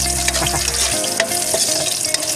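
Ginger fries hard in a pan for Bikol-style chicken curry, giving a loud, dense, steady sizzle close up, with stirring scrapes on top and a low hum that drops out partway through.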